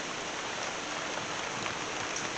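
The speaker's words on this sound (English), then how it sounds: "Rain and fall on me out here at work and me can't go in the yard house." Steady rain pours outdoors at a work yard, a dense, even hiss of drops on surfaces that holds constant throughout with no talking over it.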